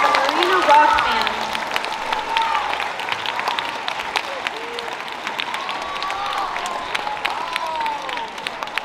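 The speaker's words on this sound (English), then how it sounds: "give one more big round of applause for our seventh grade band" Audience applause at a school winter concert after a seventh grade band performance, a steady mid-level patter of clapping with cheering and crowd chatter mixed in, fading slightly over about nine seconds.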